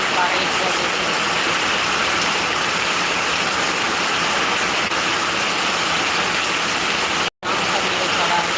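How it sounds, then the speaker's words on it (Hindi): Heavy monsoon-season rain pours down in a steady, dense hiss that continues without break, with a voice heard faintly beneath it. "इतना पानी पड़ रहा है यहाँ पर, इतना पानी पड़ रहा है।"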